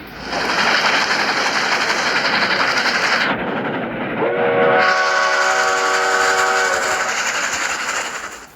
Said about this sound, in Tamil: உங்களுக்கு அந்த ட்ரெயின் சவுண்டு கேட்கணுமா?